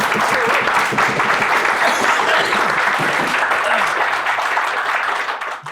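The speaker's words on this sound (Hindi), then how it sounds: "ताली इनके लिए ज़्यादा जोर से होनी चाहिए" A live audience at a talk show with Palash Sen breaks into loud, continuous applause, the clapping full and steady before fading at the close, with some crowd voices underneath.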